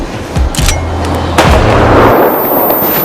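A gunshot goes off in a hidden camera prank: a sharp blast around half a second in, then a second loud crack near a second and a half, each trailing into rumbling echo and hiss, with no talk.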